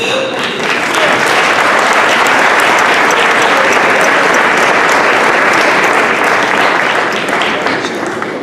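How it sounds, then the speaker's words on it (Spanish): A conference audience claps for a speaker in a large room, a dense and steady burst of applause that runs loud for the full stretch before it starts to thin. "así que un aplauso gigante, por favor."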